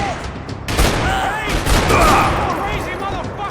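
Desert Eagle pistol fire in the video game Max Payne 3, with sharp loud gunshots and a rapid fusillade over dense game action, muffled effects and shouted voices.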